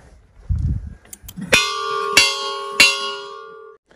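A metal bell hung from the beak of a duck statue at a Gujarat hill station temple, struck three times in slow succession, each clear ringing strike sustaining and fading, close and loud after a few low thumps.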